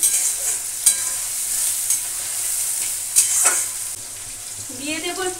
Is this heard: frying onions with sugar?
yes